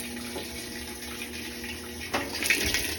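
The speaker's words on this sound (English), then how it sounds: "that's hot water coming in" Hot water rushes into a Whirlpool WTW4816FW2 top-load washer through a newly replaced water inlet valve, a steady hiss of flowing water that grows louder and splashier near the end.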